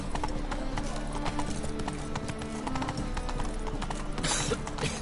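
Roach the horse gallops in the video game Witcher 3, her hoofbeats a fast, even clip-clop close by over a busy game backdrop, ending with a brief burst of rushing noise.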